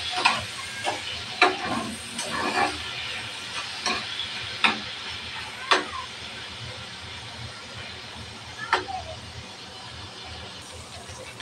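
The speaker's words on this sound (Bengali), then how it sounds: "চিংড়ি মাছটা একটু ভালোভাবে ভাজা নিব।" Prawns frying in hot oil in a pan: a continuous close sizzle with sharp crackles and pops scattered irregularly throughout, and no talking.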